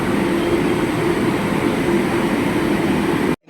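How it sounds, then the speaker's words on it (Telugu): A Vande Bharat train at the Tirupati station platform gives a steady, loud rumble and hum that continues without a break for over three seconds, then cuts off abruptly. "తిరుపతిలో వందే భారత్ ట్రైన్ ఉందన్నమాట"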